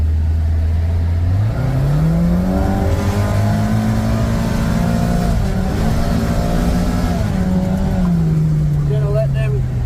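A Kawasaki RIDGE side-by-side in sport mode and two-wheel drive accelerates hard along a long straightaway toward top speed, its engine note climbing and shifting through gears under a steady wind roar, with riders talking over it.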